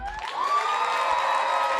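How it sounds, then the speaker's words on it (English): An audience at a teen poetry slam breaks into a short burst of cheering and applause, a steady crowd roar that swells and holds for a couple of seconds without speech over it. "Let me get a loud round of applause"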